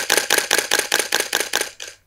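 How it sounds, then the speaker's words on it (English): A DSLR camera shutter fires a fast burst of about nine crisp mechanical clacks in quick, even succession, close and loud, ending abruptly in silence. "This is a burst of fast shutter speed"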